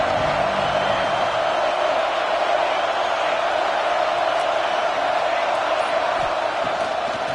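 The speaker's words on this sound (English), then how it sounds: "This crowd bringing an ear-splitting welcome to their visitors." A stadium crowd at a Stanford vs Georgia college football game keeps up a loud, steady roar of cheering and yelling that fills the whole stretch without letup.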